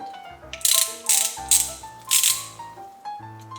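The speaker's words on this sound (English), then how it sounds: "Press the button here to attach the socket." A socket snapping onto a small ratchet with a release button, from a DEKO 258-piece portable toolkit: a few sharp, close metallic clicks at an irregular pace over faint, steady background tones.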